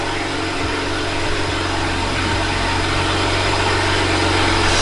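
A BMW car engine, reportedly blown up, runs steadily at idle, a loud, constant droning rumble with a slight rough vibration and no speech.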